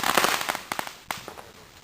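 Fourth of July firecrackers and fireworks popping in the streets of Kenilworth, a quick string of sharp crackling bangs at moderate distance, fading toward the end.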